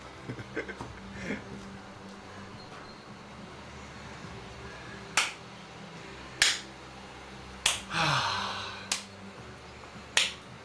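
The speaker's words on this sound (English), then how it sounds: "I thought we'd do a bit of clapping" Sharp hand claps in a quiet qigong practice setting at home: several separate claps spaced a second or two apart, fairly close and crisp, with one longer brushing rub between them and a fan's low hum underneath.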